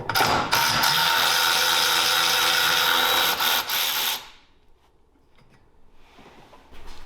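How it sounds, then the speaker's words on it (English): A roof bolt is backed out with a 5mm Allen bit on a Honda Talon 1000X-4 side-by-side, where the roof bolts to the roll cage; a loud close mechanical whir and rattle runs about four seconds, then stops into quiet. "So we need to remove this Allen here that bolts the roof to the roll cage. We use a 5mm Allen head."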